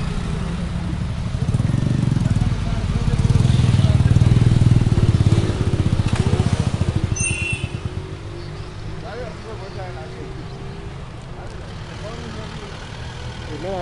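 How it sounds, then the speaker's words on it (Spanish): A motorcycle engine rumbles and idles nearby at a roadside traffic checkpoint in Paraguay while the bike is moved along, with a loud steady drone and people talking over it. "después de descender y meter un poquito más allá tu motocicleta"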